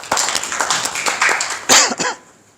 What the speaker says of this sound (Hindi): अब्दुल्ला के लिए तालियां